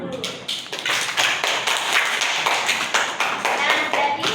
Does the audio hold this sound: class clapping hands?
yes